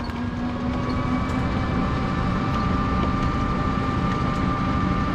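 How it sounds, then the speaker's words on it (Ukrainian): Tractor driving ahead on a narrow country road, heard as a steady, continuous engine drone with a low rumble and a constant hum that stays fairly loud throughout. "Попереду трактор."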